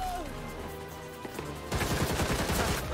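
Rapid gunfire from enemies in Gotham Knights, a dense crackling fusillade that bursts in loud partway through after a quieter stretch of game noise.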